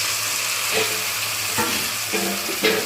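Tomato pieces are stirred in a frying pan with a loud steady sizzle and a few scraping strokes of the spoon, heard close up and without speech.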